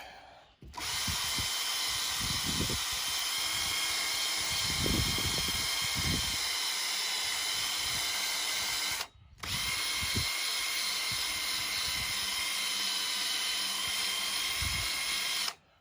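Fine 3000-grit sanding of a Chevy truck gauge cluster, a steady bright hiss running almost continuously with one brief pause, close and fairly loud with low knocks underneath and no talk.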